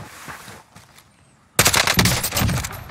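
Automatic fire from a Grau assault rifle in Call of Duty Warzone, with quiet distant shots before a loud, close, sustained burst of rapid gunfire breaks out midway and keeps going.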